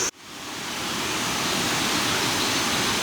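Narrow gorge waterfall in Khao Chamao, Rayong, a loud steady rushing roar of falling water that swells in right after a brief dip at the start, close and unbroken.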